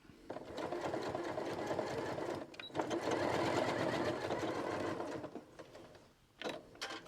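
Sewing machine stitching a replacement pocket bag seam, running steadily and loud with a brief pause partway through and a short final burst of stitching.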